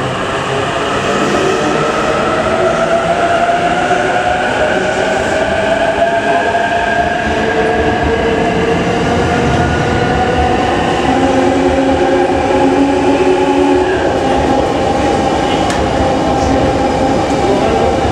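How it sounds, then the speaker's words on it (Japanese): A JR E233 series 3000 Ueno-Tokyo Line train pulls out of Ueno station bound for Tokyo, its steady loud rumble carrying a rising motor whine that climbs in pitch as it gathers speed. "山手線列車発車です。"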